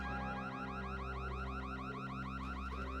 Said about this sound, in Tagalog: May nagbukas ng fire alarm dito sa bodega.